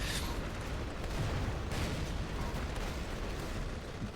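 A Grad rocket artillery barrage in the strategy game Rise of the Reds roars as a continuous, dense wash of blasts and rumbling, loud and unbroken throughout, with no voices.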